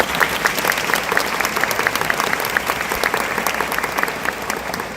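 Loud, dense audience applause welcoming a priest as a speaker at an evening talk, with a continuous roar of many hands clapping together and no voices on top.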